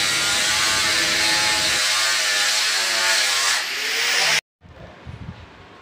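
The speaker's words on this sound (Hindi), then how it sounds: "इसलिए हम लोग रेगमाल ग्राइंडर का इस्तेमाल करते हैं।" Sandpaper grinder smoothing the joints of a wooden LED showcase, a loud, steady abrasive whine and rasp that carries for about four seconds, then cuts off abruptly, followed by quieter workshop knocks.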